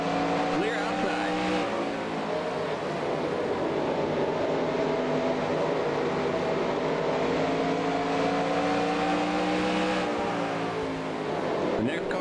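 Stock cars racing at Bristol in the NASCAR Racing 2003 video game, a loud continuous engine roar whose pitch dips and climbs through the laps, with faint radio chatter beneath it.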